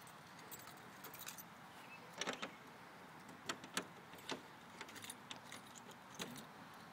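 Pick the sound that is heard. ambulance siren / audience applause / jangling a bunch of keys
jangling a bunch of keys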